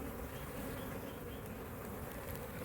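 Honey bees swarm around an open beehive while frames are lifted from the comb, and their dense, steady buzzing fills the whole stretch at close range with no voices over it.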